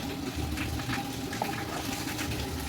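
Water is poured into a cooking pot for coconut rice, a steady splashing, gurgling flow that runs evenly throughout at close range.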